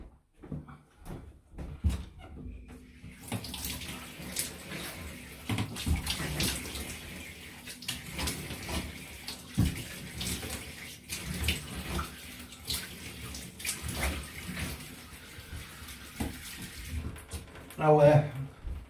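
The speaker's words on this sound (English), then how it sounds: "just gonna have the wet rinse" A water tap runs for a wet rinse during shaving, with a few knocks at first, then continuous splashing and running water at a fairly soft level.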